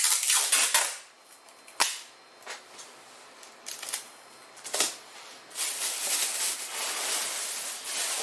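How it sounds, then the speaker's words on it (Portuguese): Masking tape tears off the roll in loud ripping bursts, some short and some drawn out, while a bag is sealed shut for a thermodynamics demonstration; quiet pauses sit between the pulls. "Vou dar um jeito de lacrar isso aqui com uma fita crepe"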